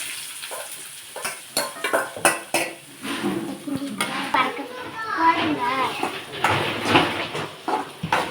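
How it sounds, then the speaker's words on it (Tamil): Onion sautés in oil in a pan, with repeated clanks and scrapes of a utensil against the pan over a soft frying hiss, while people talk throughout. "நல்லா வதக்கிக்கோங்க"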